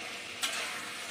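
Fried potatoes and masala sizzle and are stirred in a pan, a steady close hiss with a brief scrape of the spoon partway through.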